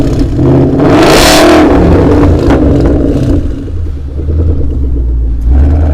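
A car engine revs loudly and close up, a continuous rumbling roar that rises and falls through repeated throttle blips, with no other sound over it.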